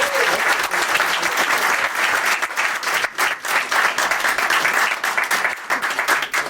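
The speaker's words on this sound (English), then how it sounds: "a massive, huge round of applause for Rob Freeman." Sustained, loud applause from a conference audience, dense steady clapping filling the room for several seconds with no speech over it.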